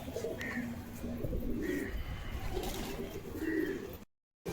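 Pigeons coo in soft, repeated rolling calls, several in a row from fairly close over faint background noise, ending in a sudden cut to silence.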